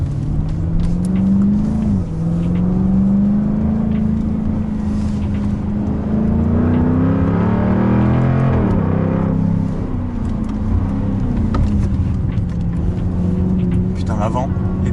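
A Jaguar car laps the technical Clastres circuit, its engine a loud, steady drone that rises and falls with shifts through the corners, close and continuous for the whole stretch.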